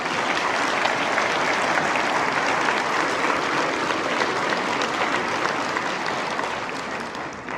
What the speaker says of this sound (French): une bonne main d'applaudissements pour notre table d'honneur